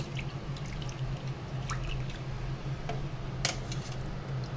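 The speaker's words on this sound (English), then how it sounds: "Cold water, and I'll let it dance in there for a little while" Cold tap water running and spattering over strained chow mein noodles in a kitchen, a steady soft gurgle with irregular drips and splashes against a low background hum.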